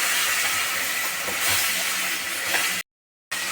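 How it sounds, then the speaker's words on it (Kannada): Ginger garlic paste frying in hot oil for chicken fry, a loud steady hiss and sizzle that cuts off abruptly for a moment near the end, then resumes. "ನೋಡಿ ಈಗ ಶುಂಠಿ ಬೆಳ್ಳುಳ್ಳಿ ಪೇಸ್ಟ್ ಎಲ್ಲ ಚೆನ್ನಾಗಿ ಫ್ರೈ ಆಗಿದೆ"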